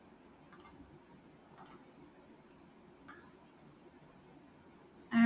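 A few crisp computer mouse clicks sound at spaced intervals, close and isolated against a quiet background, while an app's in-app designer is used.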